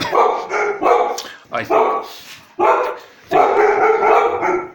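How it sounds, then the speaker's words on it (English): Dogs barking at the postman indoors, loud close barks in repeated bursts, some overlapping, with a voice speaking briefly between them. "my dogs are telling me the postman has been"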